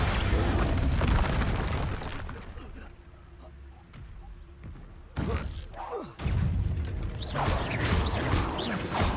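Expulso spell explosions in the video game Hogwarts Legacy, heavy booming blasts with rumbling bass and crackling debris, one big burst fading out and then two more loud blasts close together, with a player's voice shouting over them.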